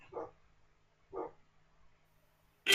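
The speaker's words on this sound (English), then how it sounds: "I wonder if the dog could be heard in the background" A dog barks in the background, two short, muffled barks about a second apart, faint and distant in a quiet room, followed by an abrupt louder burst of noise at the end.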